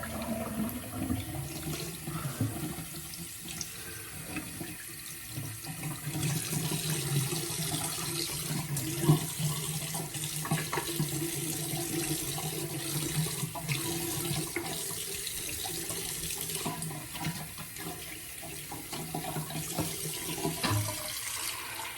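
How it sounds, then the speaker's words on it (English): A white badger shaving brush is rinsed under a running tap, a steady, moderately quiet stream of water splashing and hissing continuously into the sink with small fluctuations as the brush moves through it. "So I'll take a second here to rinse my brush out."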